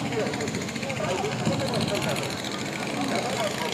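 A trawler boat's engine chugs steadily as the vessel arrives carrying cattle to a riverside market, a continuous droning rumble with a pulsing rhythm, heard alongside a talking voice.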